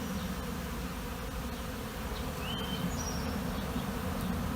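Honeybees robbing a hive, a dense steady hum of many buzzing bees close by, with a few individual bees passing nearer in brief rising whines.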